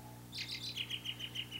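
Birds chirping during an outdoor college summer stage production of Into the Woods, a quick series of bright, evenly spaced tweets repeating about every tenth of a second, moderately loud over a steady low hum, with no talk.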